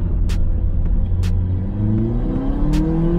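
A Toyota Corolla with a shortened shifter, its engine rumbling close and loud as the revs rise and fall through quick gear changes, with a few brief sharp clicks from the shifter over the drone.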